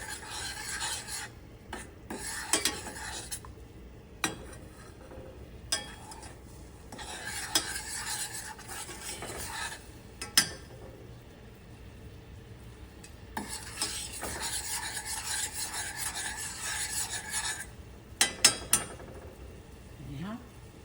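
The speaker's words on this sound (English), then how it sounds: "You see how it's boiling up?" Thick butter glaze bubbling and sputtering in a pot while a spoon stirs and scrapes, with sharp clinks against the pan now and then.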